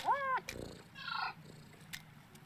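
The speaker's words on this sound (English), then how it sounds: "just a nice purring sound effect" A soft, synthetic-sounding cat purr from the video game Yoku's Island Express rumbles in short bursts, starting with a brief chirpy meow-like tone; quiet overall.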